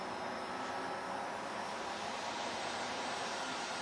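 A foam profile model Harrier plane flies overhead, a continuous broadband buzzing electric motor drone that stays steady and moderately loud with no talk.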